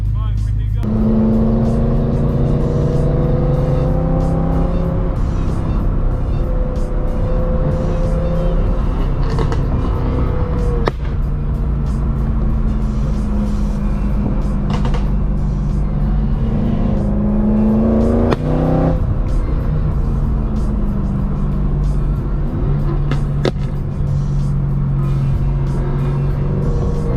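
A BMW E90 M3 being driven through a canyon, its engine droning loudly from inside the car, rising and falling in pitch through several gear changes, with voices talking at times over the steady roar.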